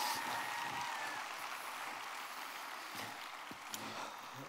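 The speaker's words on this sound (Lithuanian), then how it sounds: "Plojimai Monikai!" Applause from an audience at a university academic-year opening celebration, steady broad clapping that fills the whole stretch at moderate level and fades slightly toward the end.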